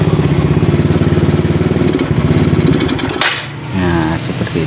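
A Yamaha Mio carbureted motorcycle engine idles with a steady rapid putter, then stumbles and sputters as the throttle is opened, nearly dying before catching again, close and loud.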